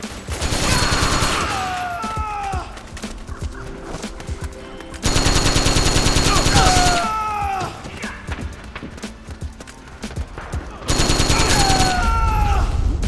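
Loud bursts of full-auto gunfire from a video game assault rifle erupt in three long volleys, each a dense rapid rattle, with quieter game effects filling the gaps between them.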